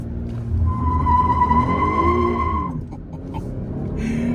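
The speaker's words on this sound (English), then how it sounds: "you will burn a lot of rubber with a front wheel drive vehicle" A 2020 GMC Acadia SLT front-wheel-drive burnout done with traction control off and brake held: a loud, sustained tire squeal with a steady high whine over the engine's roar, fading near the end.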